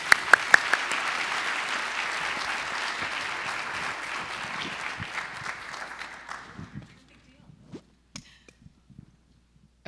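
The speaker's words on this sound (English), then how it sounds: "please give them all a round of applause" An audience at a livable housing summit applauds a panel, with dense clapping for about six seconds that thins into a few scattered late claps before silence.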